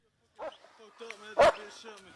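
A dog gives a few short barks and yips at close range, with a louder burst near the middle, mixed in with a voice talking to it.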